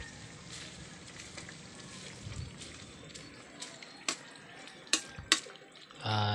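Mung beans sauté on a charcoal stove with a soft, steady sizzle and crackle, punctuated by a few sharp clinks of a utensil, with a brief louder scrape near the end.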